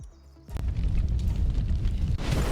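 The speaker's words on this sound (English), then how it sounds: "another supply crate or meteorite will drop there" A meteorite slamming down in the survival game Palworld, a sharp impact followed by a deep, sustained rumbling roar that stays loud to the end.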